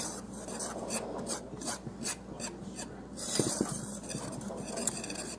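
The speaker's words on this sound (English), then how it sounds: "you use a whisk and mix it up" Dry pancake ingredients are whisked in a bowl, giving a steady rapid rasping scrape with soft rhythmic strokes, close and moderately loud, with a few light clinks of the whisk against the bowl.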